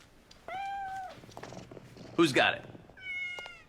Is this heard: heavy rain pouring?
no